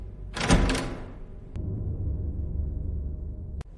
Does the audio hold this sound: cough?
no